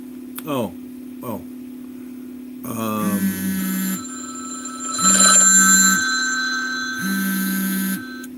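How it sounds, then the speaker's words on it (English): A mobile phone rings during a live stream, its electronic tone sounding in several repeated bursts over a steady background hum, loud and close, with brief pauses between rings. "My phone's not supposed to ring when I'm doing a live stream."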